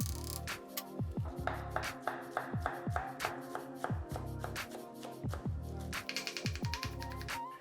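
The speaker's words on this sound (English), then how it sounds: "I finally chop one bunch of washed and dried parsley." A knife chops a bunch of washed, dried parsley on a cutting board in a home kitchen, producing rapid, steady rhythmic taps that speed into a quick flurry near the end, close and clear with no voices.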